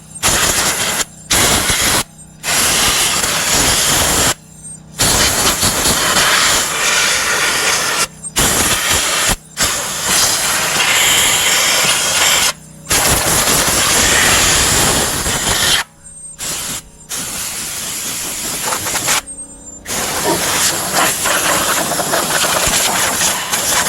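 Compressed air nozzle blowing out a Kohler mower engine on an Exmark Navigator, loud rough hissing blasts in repeated bursts separated by short silent gaps.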